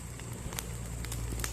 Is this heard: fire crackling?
yes